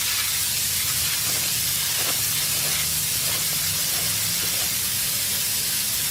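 Water sprays steadily against a car wash building in a continuous hiss, close and fairly loud, with low rumbling noise underneath and no voices.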